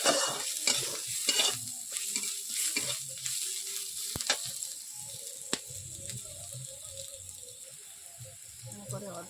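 Onions fry in a pan while being stirred, with a close scraping and stirring rustle over a steady sizzle that settles into quieter frying; a voice talks at times.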